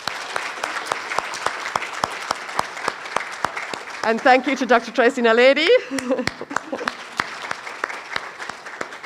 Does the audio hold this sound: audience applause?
yes